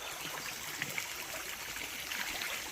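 A river flows steadily about fifty yards from a bikepacking campsite, giving a soft, continuous broadband rush of water with faint trickling and no voices.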